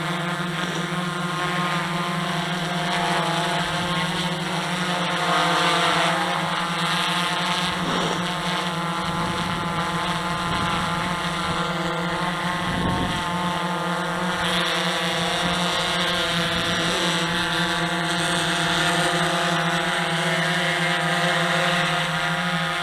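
A DJI Inspire 1 quadcopter drone with a modified battery hovers and lands itself outdoors, giving a loud, steady, close buzzing whine with strong tonal hum throughout, plus occasional wind rumble on the microphone.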